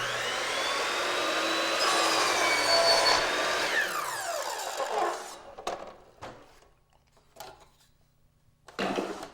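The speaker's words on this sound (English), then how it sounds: "swing the saw to the opposite miter and cut an inside corner with the long point against the fence" A miter saw swung to the opposite miter whines loudly through an inside-corner cut in a trim piece, then winds down, followed by a few sharp knocks and handling clatter.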